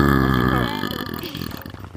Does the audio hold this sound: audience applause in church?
no